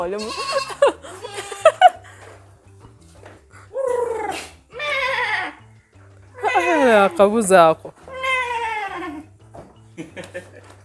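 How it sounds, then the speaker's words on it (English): Goats bleat repeatedly in a pen on a small goat-rearing farm, several loud, wavering calls coming close together at fairly close range, with a voice talking between and over them. "So there's a goat just behind"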